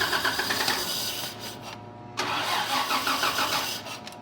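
A neglected 1984 Toyota FJ60 engine runs rough and close, surging with a couple of revs, briefly sagging near stalling before catching and roaring back up, with no talk over it.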